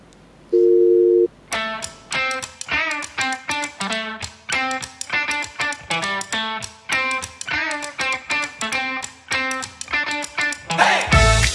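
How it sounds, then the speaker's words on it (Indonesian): Telephone call being placed: a short steady tone, then a run of rhythmic ringing and electronic beeps pulsing repeatedly, loud and close, ending with a burst of noise. "Coba deh telepon Raisa"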